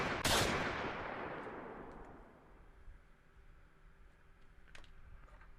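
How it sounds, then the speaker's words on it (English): Gunshot at a street protest: one sharp, loud bang that rings out in a long fading echo, followed by a few fainter distant cracks. "Another shooting just occurred."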